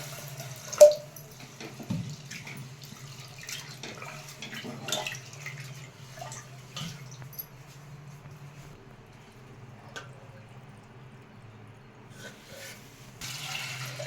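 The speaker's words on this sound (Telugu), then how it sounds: "వాటర్ పోసుకొని కడిగేసుకున్నాను శుభ్రంగా" Lentils for a gongura and drumstick-leaf dal being rinsed in water: quiet, sparse splashes, drips and an occasional clink of the vessel, spread over a long stretch with no talking.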